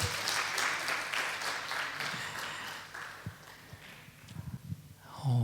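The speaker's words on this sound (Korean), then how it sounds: "우리 한 번 더 평소보다 더 큰 박수로 우리 축복하도록 하겠습니다." Church congregation applauding at a special early-morning prayer service during Holy Week, steady clapping filling the room for several seconds before thinning out into a few scattered claps and small noises.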